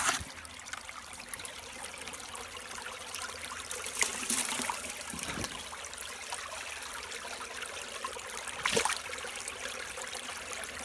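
Water runs through a gold sluice set in a river at Snake Gully, making a continuous trickling, splashing flow with a couple of brief louder splashes. It sounds close and fairly quiet.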